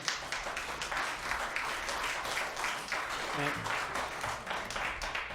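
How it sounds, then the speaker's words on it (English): Audience applause fills a city council meeting chamber, a steady wash of many hands clapping at moderate distance, sustained throughout with a faint murmur of voices beneath. "let's refrain from applauding, regardless of how eloquent or passionate our speakers are"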